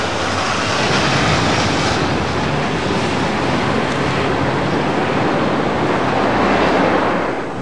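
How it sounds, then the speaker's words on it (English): An automatic driverless Docklands light-rail train runs steadily nearby, a continuous loud rumble and rush of wheels and wind with faint rhythmic rail clatter, no voices. "These trains carry people around the new area of Docklands. They're completely automatic."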